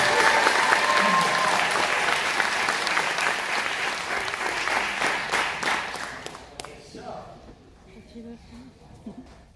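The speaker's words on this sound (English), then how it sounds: "give it a big cheer for our orchestra" A concert audience cheers and applauds for a youth string orchestra, loud dense clapping with shouts that holds strong, then thins out and fades to scattered claps and quiet near the end.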